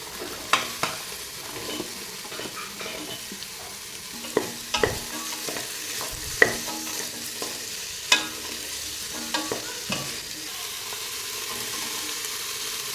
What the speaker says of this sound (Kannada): ಈರುಳ್ಳಿ ಸ್ವಲ್ಪ ಫ್ರೈ ಆದಮೇಲೆ ಕಟ್ ಮಾಡಿರುವಂಥ ತರಕಾರಿನೆಲ್ಲ ಹಾಕ್ತಾಯಿದ್ದೀನಿ